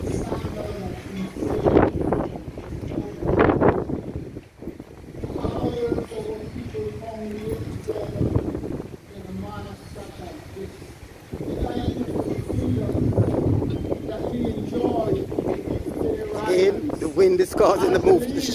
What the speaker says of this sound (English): Wind is causing the move, the shaking of the camera,